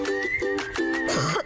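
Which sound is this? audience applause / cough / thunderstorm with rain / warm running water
cough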